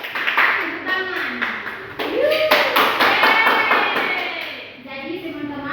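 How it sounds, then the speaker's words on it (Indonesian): Classroom of children clapping hands in rhythmic bursts alongside a teacher's cheering voice, with sharp nearby claps, a rising whoop and children's voices mixed throughout. "Tepuk tangan."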